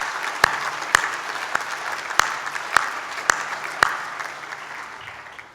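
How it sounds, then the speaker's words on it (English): The audience at a university graduation ceremony applauds the Chancellor. A soft wash of clapping carries sharp, evenly spaced claps about every half second, and the whole sound fades away at the end. "Please join me in a round of applause for our Chancellor, Mr. George Pappas, AM."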